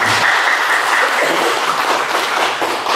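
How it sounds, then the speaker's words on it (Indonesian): Loud, dense audience applause at an Indonesian wrestling federation provincial board inauguration ceremony, a continuous wash of clapping that holds steady throughout and tapers slightly at the end. "Tepuk tangan dulu Bapak"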